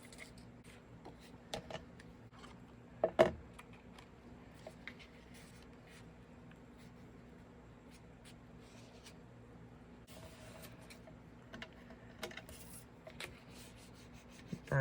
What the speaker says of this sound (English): I'm going to burnish it down.